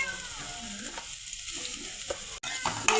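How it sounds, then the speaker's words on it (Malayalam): Chopped beetroot with dried red chillies sizzles steadily in a frying pan as a spoon stirs it, scraping and clinking close by over a constant frying hiss, no talk. "ബീട്രൂട്ട് വഴന്ന് വരുന്നിടം വരെ നമുക്ക് ഇളക്കി കൊടുക്കാം."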